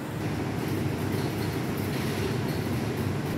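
Gajayana passenger train standing at Cirebon station, a steady loud rumble and hum of the idling train filling the platform without letup.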